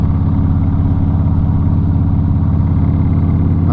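A motorcycle engine runs steadily at close range, a loud, even throbbing idle with a rhythmic low pulse and no voices over it.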